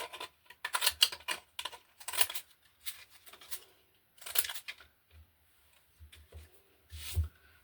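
Fancy shaped decorative scissors snip paper for a junk journal, producing quiet, crisp, irregular cutting clicks and small rustles. The sound comes close and in short bursts separated by near-silent pauses.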